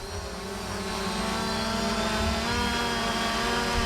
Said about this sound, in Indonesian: Drone-nya goyang-goyang.